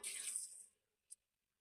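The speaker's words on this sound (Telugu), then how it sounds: "బాస్మతి బియ్యం ఇలా శుభ్రం చేసుకుని దీంట్లో వాటర్ పోసుకుందాం" Water is poured into a pot of washed basmati rice in a home kitchen: a short, close splashing pour that cuts off after under a second, then a single faint drip.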